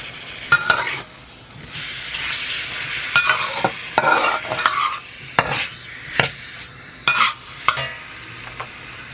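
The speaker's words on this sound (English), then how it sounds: "just keep mixing it up so the garlic don't burn" A spoon scrapes and clatters in a pan as garlic fries for Mongolian beef, with sharp irregular knocks over a soft continuous sizzle and no talking.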